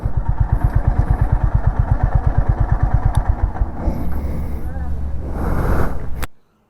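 Motorcycle engine running close by while the bike is parked in the shade beside an abandoned Boeing 737 off the old Mumbai–Pune highway, with steady rapid thumping pulses for several seconds before the engine note gives way to wind and broadband noise.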